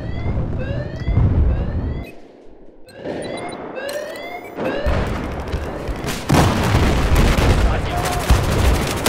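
Gunfire in Battlefield 4 on Dragon Pass, Rush mode: rapid bursts of automatic shots and booming blasts, loud and dense, with a brief lull midway before heavier sustained firing resumes.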